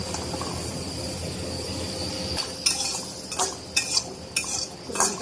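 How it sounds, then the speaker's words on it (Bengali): Garlic sizzles steadily in a hot wok, then a metal spatula scrapes and clinks against the pan in several sharp, uneven strokes, over a high whine like insects and with no talk. "কড়াই বসাই দিছি, রসুন দিয়ে দিলাম"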